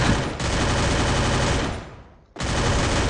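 Rapid automatic gunfire in the Free Fire battle royale game, a dense loud burst that cuts out briefly, fades, then resumes abruptly at full volume.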